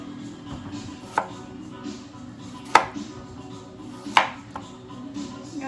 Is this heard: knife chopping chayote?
yes